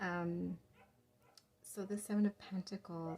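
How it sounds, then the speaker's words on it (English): Dogs barking in the background of a tarot reading, a few sharp yips and barks mixed in with someone speaking close to the microphone. "I apologize for the dogs barking."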